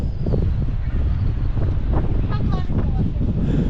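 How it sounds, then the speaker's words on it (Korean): Strong gusting wind buffets the microphone at Geumneung beach on Jeju, a loud, continuous roar with rumbling low gusts throughout, and faint voices barely audible beneath it. "바람 미쳤어"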